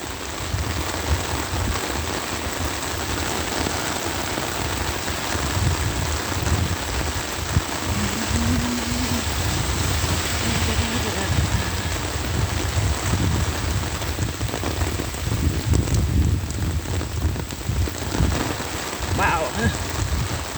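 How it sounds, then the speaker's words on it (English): A heavy downpour pours steadily during a rainy Sunday walk to St. Laurent Mall, a dense, loud, unbroken hiss of rain close around the listener throughout. "It's a very big downpour indeed."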